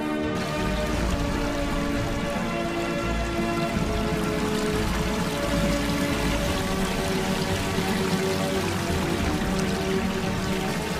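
Water falls in a steady, dense rush from a waterfall, a constant broad roar with no breaks and no voices.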